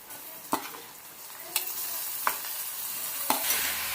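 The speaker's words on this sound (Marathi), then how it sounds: "आणि आपण चांगलं परतून घेऊया टोमॅटो आणि कांदा" Tomato and onion sautéing with salt and asafoetida in a pan, a steady close sizzle punctuated by four evenly spaced sharp spatula knocks and scrapes.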